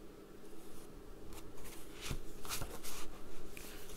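Sheets of paper for an accordion spine book are folded in half and handled close up, giving a run of soft crisp rustles and sharper creasing swipes with no voice over them.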